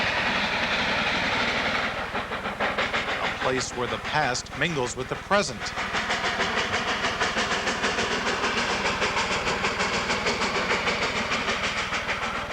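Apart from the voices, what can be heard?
train of the Cumbres and Toltec Scenic Railroad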